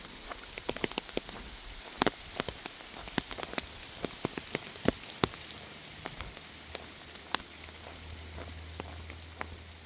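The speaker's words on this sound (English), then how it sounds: "you might be able to tell it just started raining" Rain that has just started falling along a trail in a nature park on an old golf course, scattered sharp drops tapping close by at an irregular pace over a quiet background.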